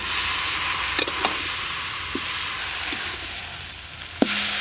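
Spinach with potato, taro and turmeric is fried in a pan, giving a loud, steady, close sizzle with a few sharp utensil clicks and taps scattered through it, and nobody speaks.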